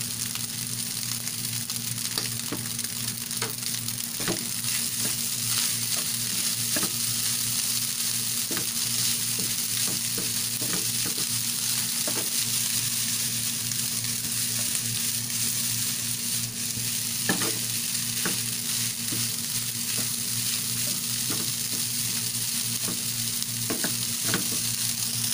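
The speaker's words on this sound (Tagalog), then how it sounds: "Ayan, halu-haluin lang natin." Corned beef fries and is stirred in a pan with a continuous close sizzle, punctuated by occasional scraping and clinking of the utensil against the pan, no talking.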